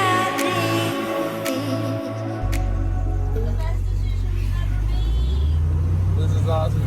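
A car's engine rumbles steadily from inside while crawling through traffic, a constant low drone filling the whole stretch, with brief bursts of talk over it early on.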